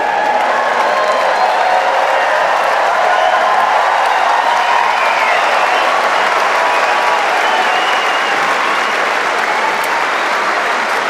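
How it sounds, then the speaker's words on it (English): Roaring Wimbledon tennis crowd, a loud, dense wash of applause and cheering that sustains steadily throughout without a break. "listen to the roar of the crowd"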